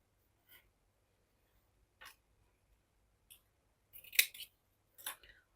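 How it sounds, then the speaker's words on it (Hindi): Scissors snip through elastic for knitted newborn baby trousers, several short crisp cuts spaced apart in a quiet room, the last ones coming in quicker pairs. "तो मैं जितना ये है इतना ही इलास्टिक काट रही हूँ"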